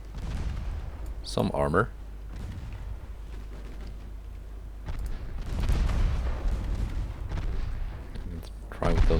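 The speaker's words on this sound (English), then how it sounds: "Set the main guns to fire AP at dispatch." Warship main guns boom in Ultimate Admiral Dreadnoughts, firing armor-piercing shells as a naval battle plays out, with deep rumbling blasts throughout and a voice talking over them.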